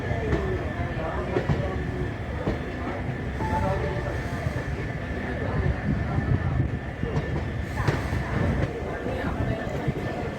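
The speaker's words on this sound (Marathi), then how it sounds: "पेट्रोलने भरलेले टँकर ट्रेन" A petrol tanker freight train hauled by a WAG-4 locomotive rolls along the track near Kolhapur, giving a steady, continuous rumble with rhythmic wheel clatter throughout, fairly close and loud.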